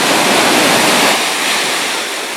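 Surf on a southern California beach roars in a loud, continuous wash of breaking waves, the crash easing slightly toward the end, with no voices.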